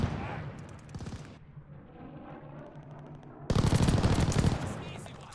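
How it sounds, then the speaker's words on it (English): Strafing-run gunfire in a video game, with a rapid burst early, a quieter gap, then a loud sustained roar of fire and impacts near the end, with a voice talking under it at the start. "That was insane, that strafing run."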